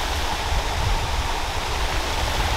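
A waterfall in the Doubs Horloger nature park pours as a steady, dense rush of water with a deep low roar, constant and close, with no voices over it.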